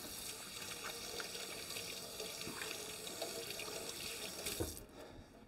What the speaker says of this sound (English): I'm going to wash my hands just a wee bit here